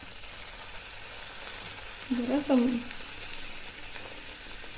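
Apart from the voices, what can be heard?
puris deep-frying in oil in a kadai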